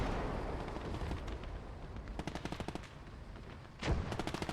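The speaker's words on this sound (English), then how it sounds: "We're going to gun this guy down with the Thompson for fun." Thompson submachine gun firing in the video game Gates of Hell: Ostfront, rapid automatic bursts over a rumbling battlefield with a heavier blast near the end, loud and continuous, without speech.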